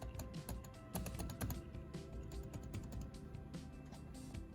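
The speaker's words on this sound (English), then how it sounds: "It's just a great keyboard to type on." Rapid, quiet clicking of MacBook keys being typed on in irregular bursts, close and soft with a faint background hum.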